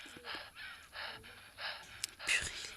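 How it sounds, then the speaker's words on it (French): A video game character in Survival Craft 2 pants out of breath, with quick, breathy gasps repeating in a steady rhythm, fairly close and moderately loud. "Purée, il est essoufflé."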